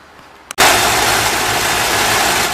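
A 1978 Chevrolet El Camino engine catches and settles into a steady, loud idle right after a fuel pump replacement, the broadband running sound continuing evenly to the end following a brief faint start.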